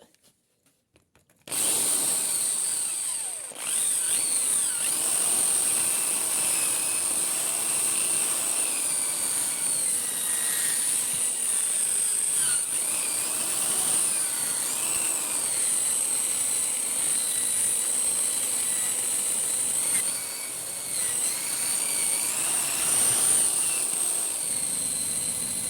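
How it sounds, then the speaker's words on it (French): A power drill with a wire brush whirs continuously at close range on a cylinder head, a steady high-pitched grinding whine that starts abruptly and runs with slight fluctuations. "va utiliser la perceuse."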